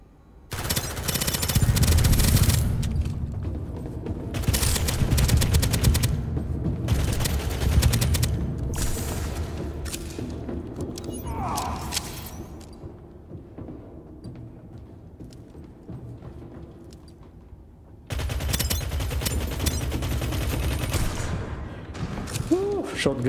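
Auto shotgun firing in Starsiege Deadzone, loud rapid repeating blasts in sustained bursts close up, fading into quieter game noise before another volley, with someone talking over parts of it.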